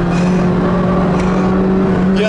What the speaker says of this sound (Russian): вот это торможение на 130 в этот поворот лютейший